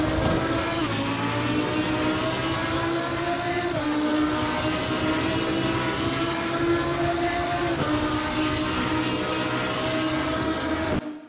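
Lamborghini Huracan EVO2 GT3 race car lapping Circuit of the Americas in Assetto Corsa Competizione, a loud continuous engine howl with pitch sweeping up through the gears and dropping on shifts, close and unbroken, with no talk.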